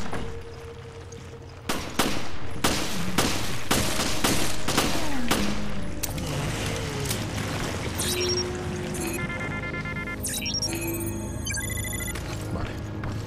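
Rapid bursts of gunfire in the video game Resident Evil Revelations crack loudly, with repeated shots and a sustained volley, followed by electronic beeps and tones.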